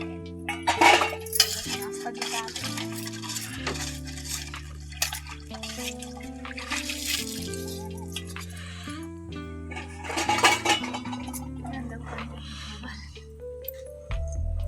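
Dishes, pots and pans being scrubbed and washed with Nirma, with clinking metal, scraping and dripping water in irregular bursts, fairly close and moderately quiet, with no one talking.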